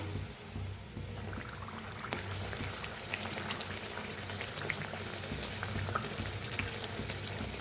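Potato puris deep-fry in hot oil with a dense, steady bubbling crackle that continues evenly throughout, with faint scattered pops and no talking.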